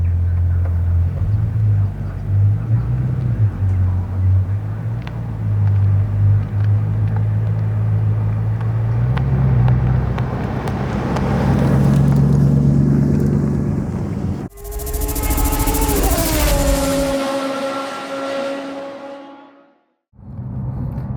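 A Bugatti Chiron drives at low speed with a deep, steady engine rumble heard from inside the cabin, rising and swelling before a sharp break into a brighter whine and a sudden drop, loud and close throughout.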